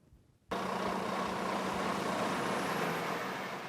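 A diesel city bus in Norfolk runs at idle close by, a steady loud engine rumble and hiss that starts abruptly and holds unbroken to the end, with no talk.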